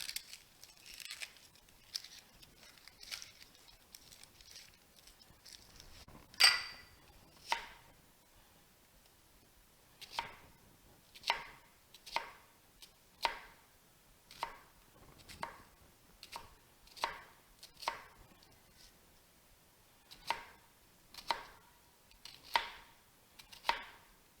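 An onion being diced with a knife on a cutting board for chili: a steady series of crisp, evenly spaced chops, close and moderately loud, with no voices over them.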